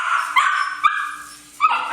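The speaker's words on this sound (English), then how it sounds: "You guys are barking and barking." Young puppies bark close by in a few sharp, high yips spaced apart, with whimpering tones between them and no talk.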